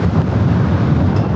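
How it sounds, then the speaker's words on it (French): Strong tramontane wind near Perpignan roars and buffets the microphone in a loud, continuous rush, with no voices. "Après le Mistral, c'est la tramontane qui nous rattrape. Ce vent peut atteindre jusqu'à 200 km/h."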